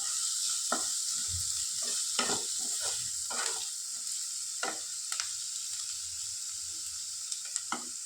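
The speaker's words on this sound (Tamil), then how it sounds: "ஆட் பண்ணி அதையும் ஒரு தடவை கலந்து விட்டுடலாம்" Onions with salt fry in a pan, hissing steadily while a utensil stirs them in scattered scraping strokes, close and fairly quiet with no talking.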